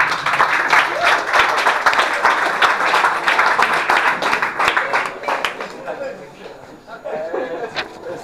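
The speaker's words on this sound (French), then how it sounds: "Donc merci d'applaudir s'il vous plaît Mathieu." Audience applause for a ukulele performer named Mathieu on a small stage, a dense, steady wash of clapping that thins out toward the end as a voice begins speaking.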